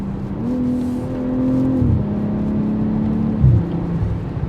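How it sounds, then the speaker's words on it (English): A BMW M340i engine hums steadily under load on the road, its pitch holding then dropping sharply twice as gears shift in milliseconds, each change followed by a renewed drone. "You can hear the tone change as I'm changing gears."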